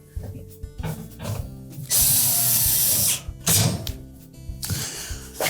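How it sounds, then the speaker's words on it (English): Screws being driven into the back panel of a GE range with a power driver, with ratcheting, whirring bursts and clicks, one long loud run in the middle, up close. "Then we'll install the single screw at the very bottom."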